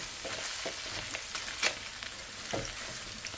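Beaten eggs fry and sizzle in a hot pan for breakfast tostadas, a steady close crackle with occasional sharper pops and stirring scrapes, no talking.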